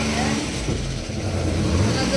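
A car engine running with its exhaust silencer, a steady low rumble with slight shifts in pitch, close and loud, partly under a person talking.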